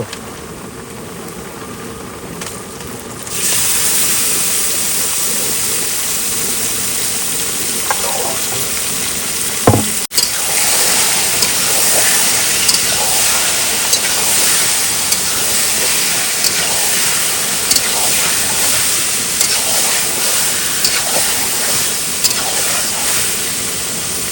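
Goat meat drops into a hot pot with onions, setting off a loud, steady sizzle and steamy hiss that jumps in suddenly and holds for over twenty seconds with small pops and crackles throughout.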